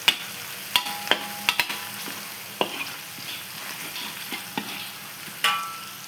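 Turmeric powder being sautéed in a pan for a brinjal dish, a steady soft sizzle broken by a handful of sharp spoon clicks and scrapes against the metal, close and fairly quiet.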